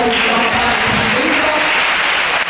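An audience at a church gathering applauds and cheers, a dense, steady wash of clapping that holds loud and even throughout.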